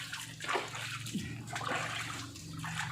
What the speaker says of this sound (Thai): อาบน้ำให้น้องหมานะคะ